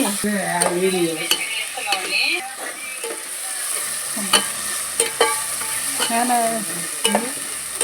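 Ginger garlic paste frying in a pan for country chicken curry, with a steady close sizzle broken by repeated scrapes and clinks of a stirring spoon.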